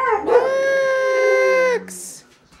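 A husky howls once in a long, sustained, tonal note that rises at the start, holds steady and then fades, loud and close, followed by a brief higher squeak.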